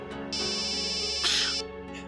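A phone ringtone plays a steady electronic melody with sustained tones, close and fairly loud, continuing throughout without talk.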